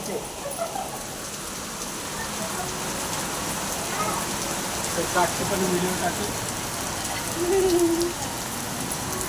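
Steady rain patters on a surface in a broad hiss, with faint bird calls and distant voices drifting through.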